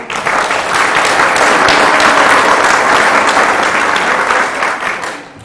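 Sustained audience applause, a dense wash of clapping from a full room that holds steady for several seconds before starting to fade.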